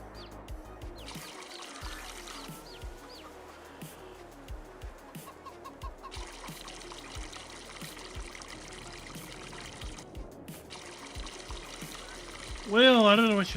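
Farming Simulator 22 chickens cluck through a busy game soundscape while water pours and trickles steadily for a stretch, with a brief louder burst near the end.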